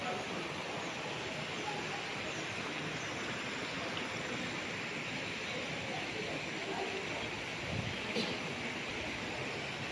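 A river at a resort in Liliw, Laguna flows as a steady, broad rushing wash. It stays constant and even throughout, with a few faint bumps nearby.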